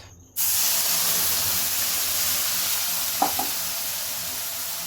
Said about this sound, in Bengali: আর এখন আমি দিয়ে দিচ্ছি জাল করা ঘন দুধ